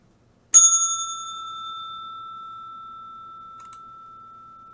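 A single bright bell strike, like a bicycle bell, rings out once and then decays slowly into a long, pure ringing tone against near silence.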